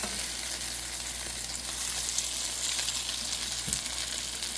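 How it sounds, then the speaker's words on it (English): Crab cakes fry in a hot pan, a dense, steady sizzle close by throughout, with a faint thud as one is flipped near the end; no voices. "we're just gonna go ahead and flip our crab cakes"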